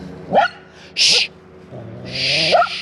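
A dog barks a few short, sharp times at a campsite by a lake in a Wisconsin state park in October, the yips fairly close and separated by brief pauses of quiet woodland.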